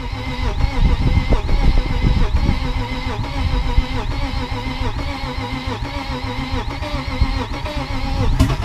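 A BMW E36's swapped-in M50 six-cylinder engine cranks with a rapid rhythmic churning, then catches and runs, settling into a loud, steady rumbling idle close by.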